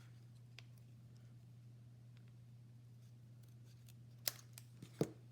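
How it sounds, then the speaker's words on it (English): Paper snips cutting card stock during card making: faint, quiet snips scattered through near-silence, with two sharper cuts near the end over a low steady electrical hum. "Get some paper snips."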